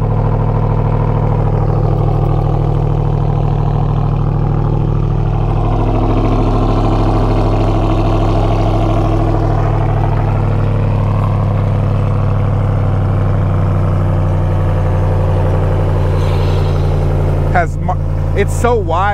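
A Ram TRX pickup idles after a cold start, giving a steady, deep, loud rumble that holds evenly for the whole stretch, with a brief burst of rustling handling noise near the end.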